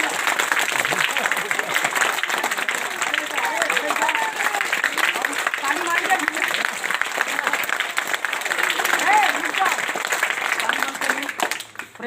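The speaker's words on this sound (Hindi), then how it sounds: "जोर से ताली मारिए।" Loud, sustained applause from a crowd at an outdoor Indian street magic show (madari jadu khel), many hands clapping steadily for several seconds with a showman's voice calling over it.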